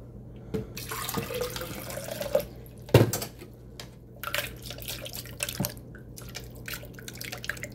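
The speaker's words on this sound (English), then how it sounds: "And then I'm going to rinse this out with water and add the water on top." Tap water runs and splashes into a container, with a sharp knock of something set down partway through and intermittent clinks and sloshing.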